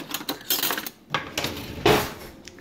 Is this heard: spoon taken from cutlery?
yes